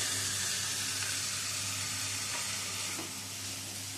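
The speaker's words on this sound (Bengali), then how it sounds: "আলু বেগুন দিয়েও শাকের সাথে মিশিয়ে নিচ্ছি" Fried potato and eggplant are stirred into cooking greens in a pan, making a loud, dense sizzle over a low steady hum, with faint scrapes of the spatula.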